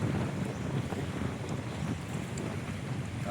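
Steady, loud wind buffeting the microphone by the sea and a river in San Nicolas, Batangas, a continuous rushing roar with low rumble and no voices.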